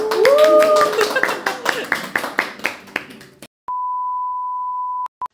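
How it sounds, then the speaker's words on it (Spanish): Closing applause at a youth politics podcast in Chile: a burst of clapping that thins into scattered claps, then a steady electronic beep tone and a short final beep. "Un aplauso."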